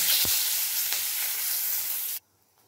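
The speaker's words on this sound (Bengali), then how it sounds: "ওই তেলের মধ্যে দিয়ে দেবো গোটা জিরে আর একটা শুকনো লঙ্কা ফোড়ন, আর দিয়ে দেবো তেজপাতা" Whole cumin, a dried red chili and bay leaf hit hot oil with a loud, bright sizzle. It holds steady with a stir, then cuts off abruptly.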